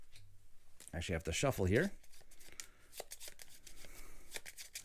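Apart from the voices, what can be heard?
shuffling a deck of cards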